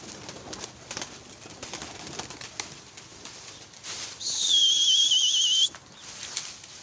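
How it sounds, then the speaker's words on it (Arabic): Pigeons fly as a flock over a rooftop loft, faint flutters joined midway by a loud, sustained whistling tone from the birds in flight, with no voices. "شوف شلون علت الطيور ما شاء الله عليهم"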